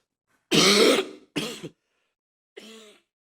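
Three close, harsh coughs in a plenary session, the first long and loud, the second shorter, then a weaker third after a pause, with silence between.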